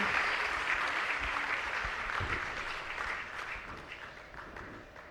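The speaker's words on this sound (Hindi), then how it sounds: "जोरदार तालियां होनी चाहिए सर के" An audience at a cardiology event for Professor Ashish Jha of RML IMS Lucknow breaks into dense, sustained applause, steady at first and tapering slightly toward the end.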